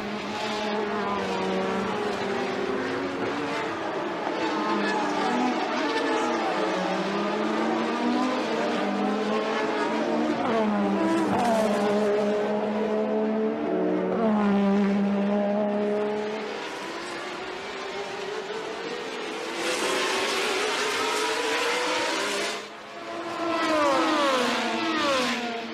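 Formula 1 race cars from the early 1980s, a Ferrari and a Renault, scream past at full throttle, with engines continuously rising and falling in pitch as they accelerate, shift and brake, loud and close.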